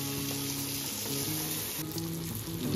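Pomfret fish fry in hot oil in a pan, giving a steady close crackling sizzle that holds throughout with no pauses or speech.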